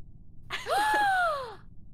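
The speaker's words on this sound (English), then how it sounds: "Why are you gasping?" A person draws one sharp, drawn-out gasp that rises and then falls away, heard clearly and alone over faint background hiss during an Among Us livestream.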